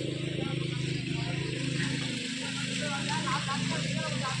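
A steady low engine rumble runs throughout, loud and continuous, from a tractor working a rice paddy field in Konkan during planting, with faint voices mixed in.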